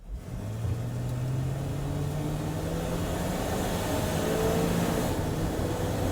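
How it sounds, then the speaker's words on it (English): An old low-compression smog-motor pickup truck pulls hard from a standstill, its engine droning and rising in pitch as the automatic transmission shifts through the gears, a steady moderate rumble heard from inside the cab. "I'll just punch it from a standstill here and let the tranny do the shifting and see what happens"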